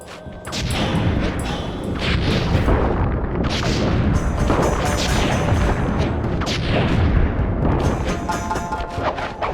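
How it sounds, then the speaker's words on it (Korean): A dense barrage of booms, crackles and bursts layered over each other, loud and continuous, a fireworks display in the video game Sly Cooper 3. "내 새로운 명작 불꽃놀이를 한편 선사해 주도록 하지"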